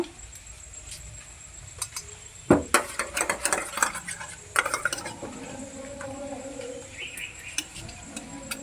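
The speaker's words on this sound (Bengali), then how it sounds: "এক চামচ জল দিয়ে গুলে নেব।" Spoon stirring a thin batter of food colour and water for motichoor laddu, made from gobindobhog rice and chana dal, close rapid clinks and scrapes against a bowl that start abruptly and keep going in an irregular rhythm.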